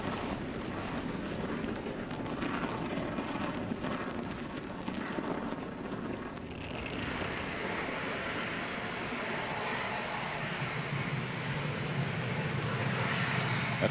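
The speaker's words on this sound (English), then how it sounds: "Falcon 9 has successfully lifted off from Slick 40" A SpaceX Falcon 9 rocket lifts off from Slick 40 carrying ESA's Hera spacecraft, a steady deep roaring rumble that holds for the whole stretch, growing harsher and more crackling partway through as the exhaust noise spreads and thickens.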